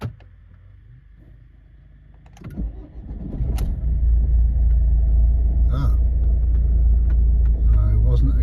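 A rebuilt Ford Focus 1.5 TDCi diesel engine cranks with a brief whirr, catches, and settles into a loud, steady rumbling idle that continues to the end, with some clicks and clatter nearby.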